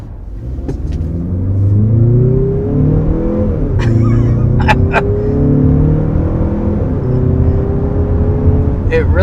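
A 2022 Toyota RAV4 hybrid accelerates hard, its engine droning and rising steadily in pitch beneath a continuous road rumble, loud and close from inside the cabin, with a voice talking over it.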